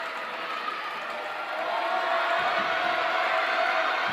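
A home crowd at a girls high school basketball game swells into a loud, steady roar of cheering that grows louder partway through.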